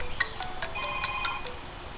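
A cell phone rings with a quick warbling electronic pattern of repeated short chirps, moderately loud over a steady background hiss, during a field phone call.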